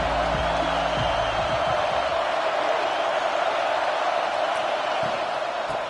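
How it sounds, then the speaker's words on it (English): A stadium crowd at a college football video game involving Tennessee roars continuously, a dense, loud wash of cheering that holds steady throughout. "This crowd ready to make its presence known."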